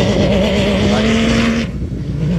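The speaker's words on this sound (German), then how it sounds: "Die ersten 12 Autos starten in Abstand von 3 Minuten bis zur Dust Gap" A Dakar rally race car at a stage start, its engine droning loud and close with a steady harmonic whine that shifts in pitch before dropping away.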